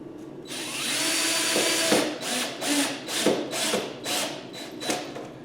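A power drill drives 3-inch screws into a glued wooden shovel handle, whirring steadily with repeated ratcheting surges and pauses as each screw bites in, close and fairly loud.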